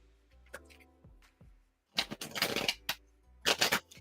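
Tarot cards shuffle in bursts of riffling and sliding, close and fairly quiet, with a few soft taps and pauses between the two longer shuffles.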